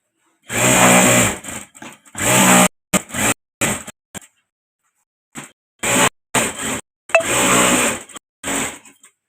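Sewing machine stitching bags runs in loud, close bursts of rapid whirring, stopping and starting repeatedly with short gaps between runs.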